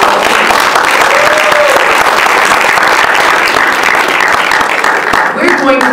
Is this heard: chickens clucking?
no